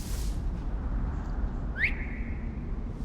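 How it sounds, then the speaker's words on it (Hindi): A single short rising whistle from a character in the game Assassin's Creed Origins, used to lure an enemy, sounding once mid-clip over a steady low rumble of sandstorm wind. "सीटी मार के।"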